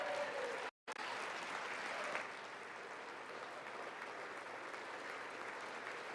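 Applause from the audience at a State of the Union address, a faint, steady wash of clapping that carries on after a short gap, heard from a distance.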